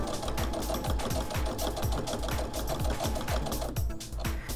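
A sewing machine stitches steadily along the edge of a fabric pot holder, its needle thumping in a fast, even rhythm that runs loud and close throughout.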